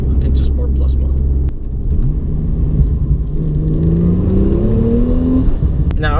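A Porsche 911 Turbo S (991) in Sport Plus mode drives around town, its engine a deep, steady rumble that swells into a rising whine, with someone talking over it.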